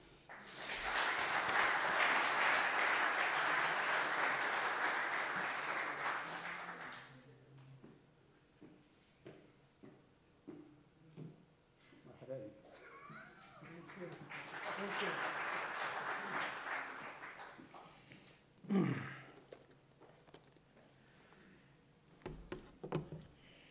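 An audience bursts into sustained applause for several seconds to welcome a speaker to the stage, then it fades as a voice begins talking. A second wave of clapping follows a little later, with speech continuing afterward.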